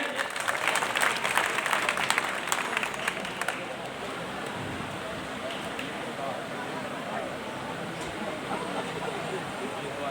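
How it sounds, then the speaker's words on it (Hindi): Loud applause from an audience at a school alumni gathering at an inter college, dense clapping strongest early then settling into steady, slightly quieter clapping throughout. "जोरदार ताली बजाइए।"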